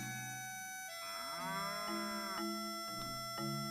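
A cow in a video game gives a single drawn-out moo with a rising then steady tone, set over a continuous droning musical background.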